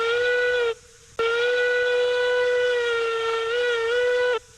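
A loud locomotive whistle in the railroad video game Railroads Online sounds in two long blasts, the first short and the second held for several seconds, steady and close with no talking.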